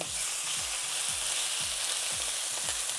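Ground beef browns in a pan under a loud, dense sizzle, with a regular series of low thuds from the meat being broken apart and stirred.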